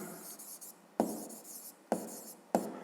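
A pen scratches answers onto paper during a fifth-grade maths exercise, with a few quiet strokes, each starting with a sharp tap on the page, over a soft, near background hush.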